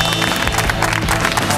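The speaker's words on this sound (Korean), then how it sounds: "함께해주신 네 분에게 뜨거운 박수 감사합니다." Studio audience of a Korean variety show about an amateur baseball team applauds the guests, a short burst of clapping with some crowd noise mixed in.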